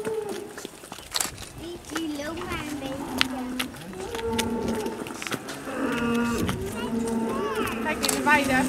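Dairy cows in Gelderswoude being let out to pasture in spring, lowing with drawn-out moos near and far, with hooves and people talking in the background.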